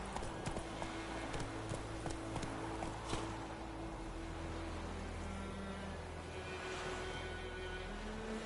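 Horse hooves clip-clop steadily through the Witcher 3 game world, a soft, even rhythm of hoof falls running under ambient game sound for the whole stretch.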